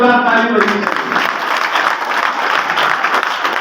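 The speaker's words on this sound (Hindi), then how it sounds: "मैं चाहूंगा इनके लिए जोरदार ताली बजी" Crowd at an Aam Aadmi Party ward election rally clapping loudly and close, a dense burst of many hands that follows a brief amplified voice at the start and holds steady before cutting off abruptly.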